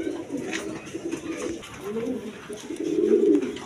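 Kalani gorra pigeons for sale coo in soft, repeated throaty phrases close by, swelling louder toward the end, with little else around them.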